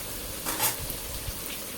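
Onion frying in a pan for chicken pulao, a steady hiss with one brief louder burst of stirring midway.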